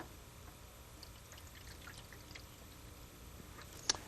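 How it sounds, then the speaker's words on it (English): Working-strength stop bath is poured into a darkroom tray, giving a soft, steady trickling stream throughout, with a brief sharp tap near the end. "Pour working strength stop bath into your stop bath tray."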